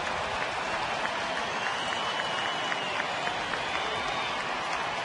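Baseball stadium crowd during a late-inning game chasing the final out: a steady, far-off wash of cheering and scattered applause running the whole time, with faint whistles and no clear voices standing out.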